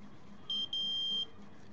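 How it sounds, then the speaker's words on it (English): A high electronic buzzer tone from a single-transistor water alarm circuit, triggered by wires dipped in water, sounds twice in quick succession, the second longer, over a low steady hum. "the buzzer is also making a sound"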